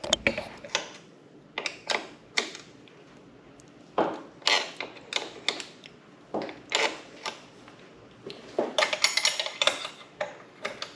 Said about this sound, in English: you'll need a second wrench so that you can hold one in place as you turn the lock nut